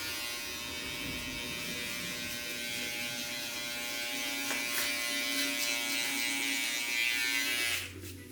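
Electric hair clippers buzz continuously and close up while cutting a fade, a steady whine with slight shifts in tone as the blade moves through hair, then a brief drop near the end.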